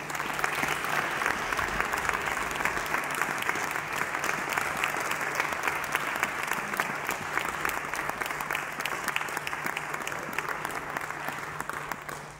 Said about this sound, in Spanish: Un aplaudimiento para Andrés.